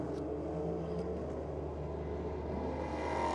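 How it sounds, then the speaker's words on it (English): An AMG Mercedes V8 race car engine at a race meeting, a steady, low, distant engine drone with a slight rise in pitch toward the end, heard faintly without speech. "you can't go past the sound of these AMG Mercedes V8s"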